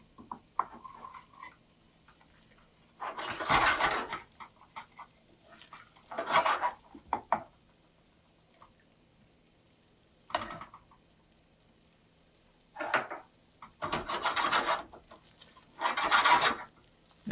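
Flour being worked into a roux in a pot for béchamel sauce, several bursts of rasping, scraping strokes of a utensil around the pot separated by quiet pauses.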